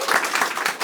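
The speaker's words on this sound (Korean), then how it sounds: "동의하시면 박수 한번 쳐주세요." An audience at a lecture on Geumsan ginseng history applauds, a dense, steady wash of many hands clapping at close range for just under a second before stopping abruptly.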